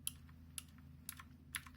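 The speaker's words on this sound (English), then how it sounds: "That's only the switch clicking." Zero X08 mechanical keyboard switches without rubber rings clicking: four sharp, evenly spaced clicks about half a second apart, close but quiet over a low hum, with no talk.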